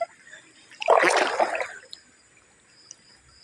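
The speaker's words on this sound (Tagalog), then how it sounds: "Lumubog sa tubig." A waterproof GoPro plunges under water during a night swim, a short muffled splash and bubbling gurgle lasting about a second, then near silence with faint drips.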